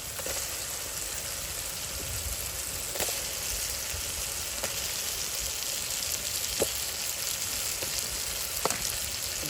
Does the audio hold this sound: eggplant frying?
yes